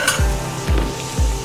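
Onions for kanda poha sizzle and fry in a pan while a spoon stirs them in three loud, regular scraping sweeps, close and steady with no talking.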